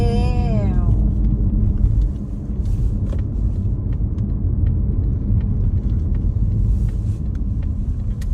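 Steady low road rumble from a car driving slowly along a village lane toward home, continuous and close, as heard from inside the cabin, with a brief rising tone at the start.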